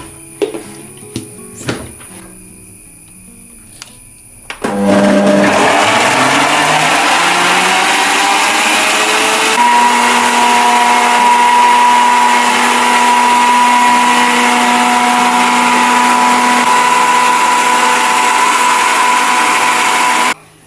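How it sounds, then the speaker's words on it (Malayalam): A mixer grinder grinds dosa batter with added water in a home kitchen: a few light clicks and knocks, then a loud, steady whirring roar that holds to the end. "ഇത് നല്ലോണം നല്ല അടിപൊളിയായിട്ട് അരച്ചെടുക്കാം"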